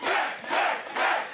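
Studio audience at a sports talk show cheering and hollering in loud swelling bursts, three quick surges of crowd noise in close succession.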